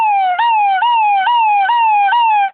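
A voice imitates an ambulance siren, a loud wailing tone repeating in steady falling sweeps about every half second, alone and close.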